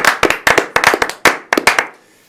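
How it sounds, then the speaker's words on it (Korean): A small group claps for early voters in a broadcast studio, with bright, close, irregular slaps in quick clusters that break off and trail into quiet. "정말로 우리가 사전투표 하신 분들한테 박수를 한번 보내주세요."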